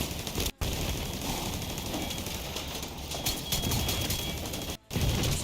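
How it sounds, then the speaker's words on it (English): Dense, continuous gunfire and explosions fill a firefight in the video game The Division 2, a steady wash of noise broken by two brief dropouts, with no voices. "It's a lot of explosions."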